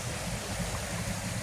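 Steady rushing water flows continuously, a low, even wash of a river running nearby in Norzagaray, Bulacan, with no voices over it.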